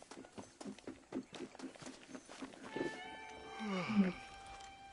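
Horse hooves clip-clop in Red Dead Redemption, a rhythmic patter of steps through the first few seconds before musical tones and an animal growl take over, with talk present.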